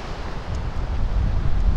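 Steady wind roars across the microphone on a mountain trekking trail in Langtang National Park, a broad continuous rushing that swells slightly and carries no talk.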